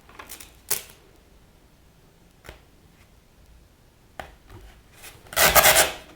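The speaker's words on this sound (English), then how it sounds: "we can use this to trim the tape like so" Tape is trimmed with a very sharp blade in a few short, close scraping and rubbing strokes separated by pauses, ending in a louder burst of rasping, with no voices.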